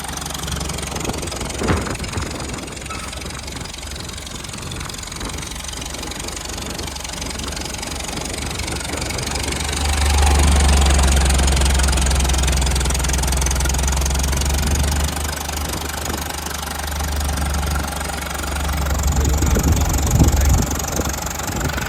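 A classic tractor engine runs continuously with a low, throbbing idle that revs louder for several seconds midway, then settles and rises again near the end.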